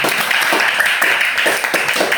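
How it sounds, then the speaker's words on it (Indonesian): A classroom of students applauds with brisk, crowded clapping that fills the whole two seconds at a fairly close, even level. "silakan berikan tepuk tangan kepada teman-teman."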